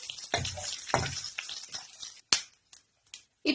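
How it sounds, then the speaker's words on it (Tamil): Cumin and black pepper frying together in a pan over low heat: soft, broken crackling with a few sharp pops and scrapes, quiet and fading into near silence toward the end. "ஜஸ்ட் ஒரு 1 நிமிஷம் ஃப்ரை ஆகட்டும்,"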